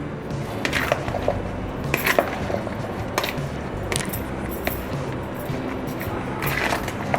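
Fruit chaat is stirred with tamarind and apricot chutney in a bowl, giving repeated clinks and scrapes of a spoon against the dish over a soft, steady background.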